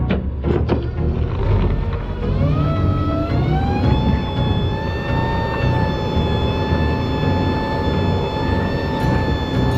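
A truck hauling frac equipment pulls away and accelerates, its engine note rising steadily in pitch with clear harmonic whine over a rumbling low end, close and fairly loud.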